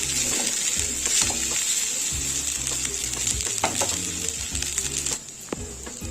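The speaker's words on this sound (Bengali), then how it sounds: "দু মিনিট আমি ভালোভাবে নেড়ে চেড়ে নেব সব রাইস এবং চিকেন।" Rice and chicken being stirred and fried in a pan for a chicken fried pilau, with a steady close sizzle and repeated scraping stirs throughout, no talking.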